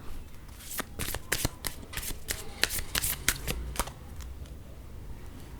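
A deck of playing cards is shuffled up close in a quiet room, giving a run of sharp riffling flutters and snaps in quick irregular bursts, alone with no voices.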